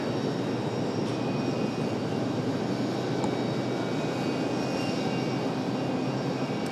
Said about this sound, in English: So another brand new aircraft making their way in here this afternoon